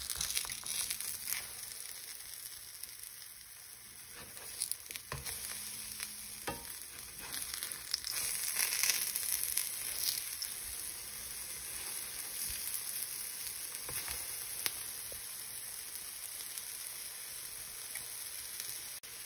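Banana egg paleo pancakes fry in a pan, a soft, steady sizzle heard close by with faint crackles and a few light spatula scrapes, no one speaking.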